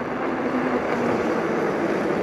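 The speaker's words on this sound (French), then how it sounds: "Tu as juste le bruit des crampons des pneus sur la route." Knobby tyres on an electric bike roll along a road with a steady, broad hum of tread noise and no motor sound, unbroken throughout.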